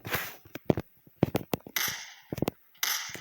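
Sharp gunshot blasts crack in quick, irregular bursts, several in a row with brief pauses between, loud and close like game weapon fire.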